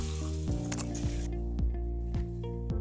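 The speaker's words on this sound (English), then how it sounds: "That first sizzle, that's the sound of flavor loading." Steak searing in a hot cast iron pan, a steady loud sizzle and crackle with sharp spits and pops throughout, no voices.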